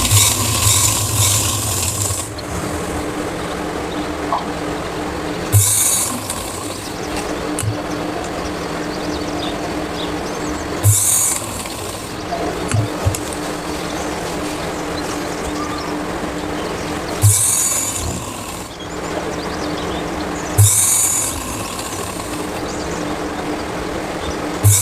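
A sewing machine stitches fabric in steady whirring runs, a continuous mechanical clatter nearby broken by several short pauses and brief louder clicks as it starts and stops, with no talking.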